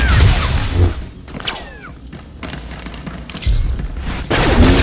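Turrets fire in a Star Wars video game flashpoint battle against Mandalorian raiders, a chaotic mix of booming blasts, whooshing bolts and sharp zaps that swell, thin out briefly, then return loudly, with no talk.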